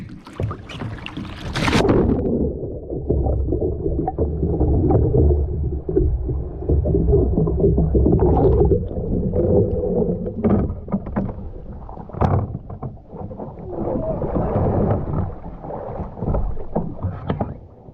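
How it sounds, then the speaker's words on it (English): Water sloshes and splashes as a Crescent Ultralite kayak rolls over, with churning, gurgling turbulence and a few hollow knocks against the hull. "This time I'm actually going to flip the boat instead of fall out."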